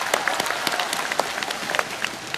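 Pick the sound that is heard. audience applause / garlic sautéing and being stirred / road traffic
audience applause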